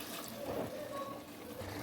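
Half a cup of water poured into a cooking pot to rinse out leftover masala for aloo gosht, a close, steady splashing trickle of liquid lasting throughout, with no talking.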